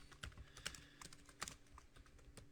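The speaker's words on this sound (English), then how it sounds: "So to create the full name, we could go type in Jimmy" Quiet keystrokes on a computer keyboard while typing names into an Excel spreadsheet, an irregular run of light clicks with small bursts and pauses, no voices.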